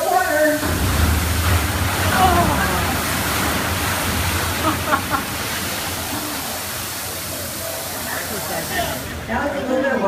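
1,000 gallons of freezing cold water dump down into a tank on a studio backlot tour, a heavy continuous rushing splash heard up close with people talking over it.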